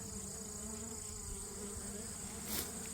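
Korean native honeybees buzz in a steady, dense drone at the hive, close and continuous, with one bee passing louder near the end.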